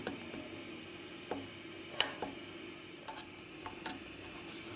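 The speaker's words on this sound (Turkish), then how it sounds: "Soğanı normalden biraz fazla kavuracağız" Onions sauté in a pan for Ottoman-style wheat soup with meat, giving a faint steady sizzle broken by a few light stirring clicks and scrapes, with no talking.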